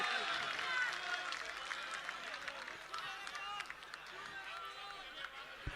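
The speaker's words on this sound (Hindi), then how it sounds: "तालियां बजाइए साहबान, आप ही बजाइए।" A mushaira audience in Ahmedabad claps steadily throughout, a dense wash of applause with crowd murmur and voices mixed in.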